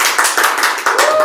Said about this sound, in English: You're supposed to be clapping